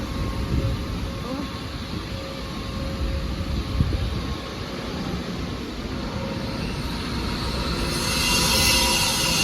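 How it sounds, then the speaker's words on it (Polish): Passenger train pulling into the platform at Zakopane station, a steady low rumble of wheels and carriages with rising hiss and squeal in the final seconds, fairly close and continuous. "I podstawia się pociąg Wielka Małopolska na tor trzeci przy drugi."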